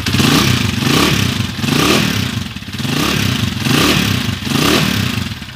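A 24-year-old Bajaj 100 motorcycle engine runs close by, a loud, steady, smooth idle rising and falling gently in a slow rhythmic surge.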